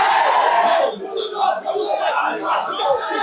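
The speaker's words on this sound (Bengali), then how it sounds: "তারা কিন্তু স্লোগানে এখানে মুখরিত করে রেখেছেন এই জগন্নাথ ইউনিভার্সিটির প্রান্তর।" Students at Jagannath University chant slogans at a protest demanding a student union election, a loud, massed crowd of voices shouting together, swelling and dipping in bursts.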